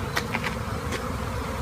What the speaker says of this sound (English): you've got tons of bees there